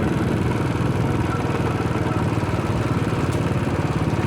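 A small motor water pump chugs in a rice field, a loud, close, rapid steady putter with a faint clattering edge, running continuously with no talking.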